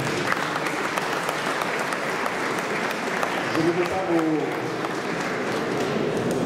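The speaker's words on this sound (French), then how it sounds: "Je voudrais vraiment qu'on applaudisse Sonia Mabrouk" Guests at an annual dinner applaud steadily, a thick continuous wash of clapping from a sizable crowd, with a brief voice speaking over it midway.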